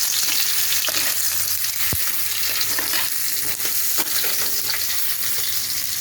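Potatoes frying in hot oil in a pan: a loud, continuous sizzle with occasional scrapes and knocks of a stirring spatula, and no talking.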